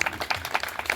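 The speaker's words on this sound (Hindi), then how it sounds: "तालियां बजाओ।" A short burst of audience clapping during an Independence Day speech, several distinct hand claps in a quick uneven rhythm, fairly close and clear.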